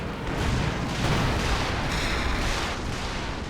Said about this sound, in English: Stuka barrage coming in.